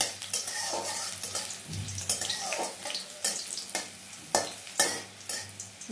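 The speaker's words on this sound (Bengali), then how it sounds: "রসুনটাকে আমি একটু হালকা বাদামি কালার করে নেব" Garlic frying in a pan until light brown, with a steady sizzle broken by several sharp scrapes and clinks as it is stirred, close and moderately loud with no talking.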